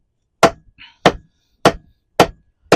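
Layered paper sheets struck with a hammer: five sharp, loud blows at a slow, even pace, each ending quickly, with a brief faint clink between the first two.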